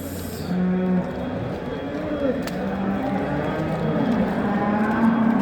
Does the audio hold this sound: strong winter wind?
no